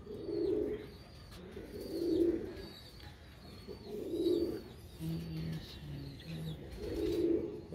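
Soft, low pigeon coos repeat in slow, regular phrases, with faint chirps and outdoor ambience between them.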